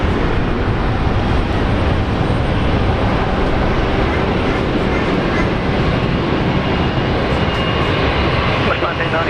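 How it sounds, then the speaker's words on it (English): Airliner on a long takeoff roll at Brisbane Airport, a loud, continuous broadband engine roar that holds steady throughout with no distinct breaks. "Another long takeoff roll."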